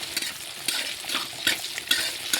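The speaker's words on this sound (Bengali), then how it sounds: "তারপরে ওই তেলে আমি গাজর আলু ধুয়ে ভেজে নিচ্ছি" Carrots and potatoes fry in hot oil in a pan, giving a continuous close sizzle with a few bursts of stirring at irregular intervals.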